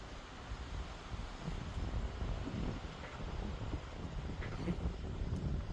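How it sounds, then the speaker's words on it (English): Strong wind buffeting an outdoor spot during a truck camper build, heard as a steady, dense roar and rumble that is heavy in the low end and continues evenly throughout, with no talk. "wind has been so awful here, so I haven't been able to do much filming because of it"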